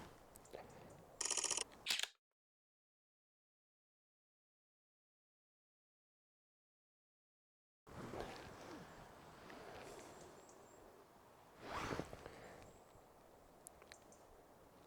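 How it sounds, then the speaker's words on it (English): A camera shutter fires in a rapid burst at 15 frames per second while photographing red squirrels outdoors, close and crisp, followed by silence and then soft outdoor ambience. "you can hear the difference in the shutter speed shooting at 15 frames a second"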